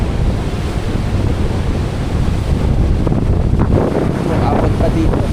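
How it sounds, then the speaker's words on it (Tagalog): Large ocean waves surge and break continuously onto the shore at Biri Island, a loud, steady roar of surf with wind buffeting the microphone throughout. "Ayan o, yung alon sa taas. Grabe."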